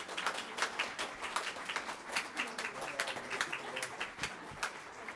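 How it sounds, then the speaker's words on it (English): An audience at a school board meeting claps for an award recipient, with brisk, irregular hand claps in a moderately sized room, steady and fairly close for several seconds. "Let's give her a huge round of applause."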